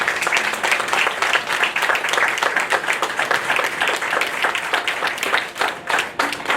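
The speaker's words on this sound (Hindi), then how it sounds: "एक बार जोरदार ताली आंटी के लिए" An audience at an Indian classical music felicitation ceremony bursts into loud, sustained applause, a dense wash of many clapping hands that holds steady for several seconds without talk.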